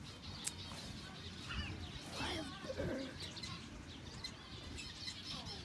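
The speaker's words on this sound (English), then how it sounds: "Wild bird." A wild pigeon or dove coos in soft repeated phrases outdoors on a farm, moderately close, over a steady background hiss with a few faint chirps from other birds.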